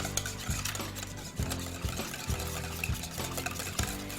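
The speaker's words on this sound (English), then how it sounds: "we're gonna whisk that together with the eggs" Canned pumpkin and eggs whisked together in a bowl, giving a quiet, rhythmic tapping and scraping that repeats about twice a second, close by.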